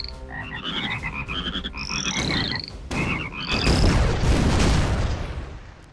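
A frog bomb going off in the artillery game ShellShock Live: loud booming bursts mixed with a chorus of croaking frog calls and rising chirps, layered over busy game music throughout.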